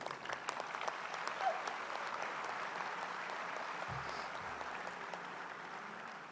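Audience applause welcoming the platform party at a medical school white coat ceremony, a steady, sustained wash of many hands clapping from a large crowd, even in level throughout.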